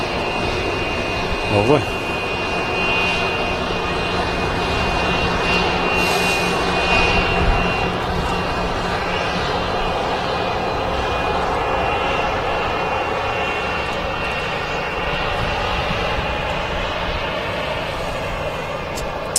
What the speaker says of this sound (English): So it's a Voljet Embraer 145